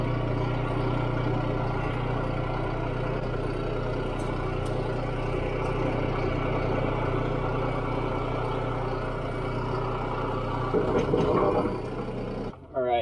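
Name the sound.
tractor backing up, running PTO leaf blower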